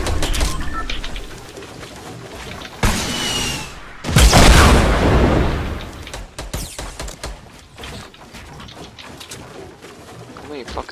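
Rocket explosions in Fortnite, a battle royale shooter: two heavy blasts, the second louder and longer, burst out close by amid game noise and scattered impacts.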